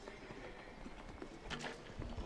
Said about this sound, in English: This horse is long striding and fast away from the opener.